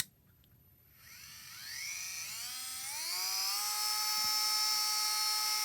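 A battery-powered Bosch rotary tool, Dremel-like, with a speed controller, whines as it spins up after about a second, its pitch climbing in steps to a steady, fairly quiet high-speed whir, alone with no talk.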